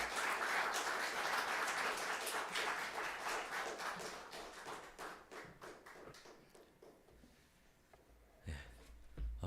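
A church congregation at a Sunday service claps together to welcome a preacher, starting as dense applause and thinning into a few scattered claps and taps before a last couple of louder knocks.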